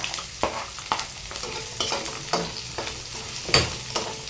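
Onion and garlic fry in a pan with a soft steady sizzle while a utensil stirs and scrapes, giving sharp periodic clanks and scrapes roughly every half second, the loudest near the end.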